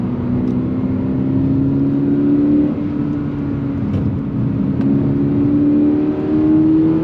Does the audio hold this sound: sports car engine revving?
yes